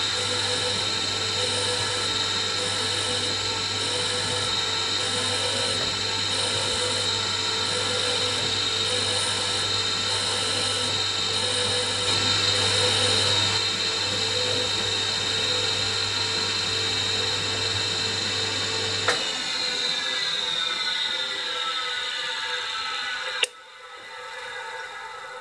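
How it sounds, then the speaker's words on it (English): A surface grinder runs with a steady loud machine hum and high whine while machining steel slide bolsters for a powered lathe slotter, with a rhythmic pulsing, then the motor cuts off and winds down before a final clunk. "I'll set that up in the surface grinder. We'll give that a lick."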